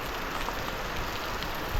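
Monsoon rain falls over a Konkan village, an even, continuous hiss of drops close by, steady throughout with no voices.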